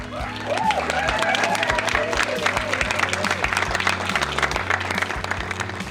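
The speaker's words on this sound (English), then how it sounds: "I want you to all give these guys a real big cheer for entering" Loud, sustained applause and cheering from a crowd at an aquatic art and pond building competition, dense clapping filling the whole stretch while a voice over a speaker system carries on in the background.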